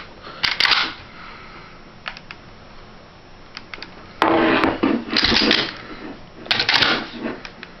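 Remington 11-87 Sportsman shotgun being worked and dry-fired after reassembly, several metallic clacks and ratcheting bursts of the action cycling, close and crisp, separated by short quiet gaps.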